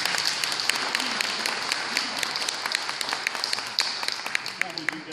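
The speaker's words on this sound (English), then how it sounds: "let's give Peter a round of applause" A crowd at a community meeting applauds, steady dense clapping throughout with a few sharper claps standing out and faint voices mixed in.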